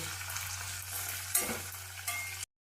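Capsicum curry fries in a pan with a steady, moderate sizzle and a brief stirring scrape midway, then the sound cuts off abruptly.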